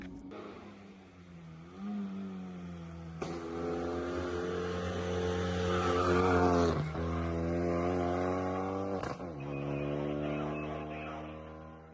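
A Renault Megane prepared for hill climb racing idles, then revs up through rising engine pitch and drops back several times, loud and close with a steady droning tone between the blips.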